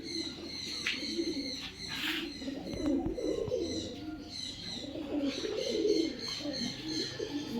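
Fancy pet pigeons coo in a rooftop loft: repeated low, throaty calls, moderately close, with occasional higher chirps and a faint flutter in the background.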